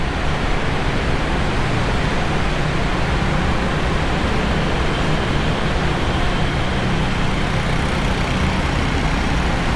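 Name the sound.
large ventilation fan motors in a tunnel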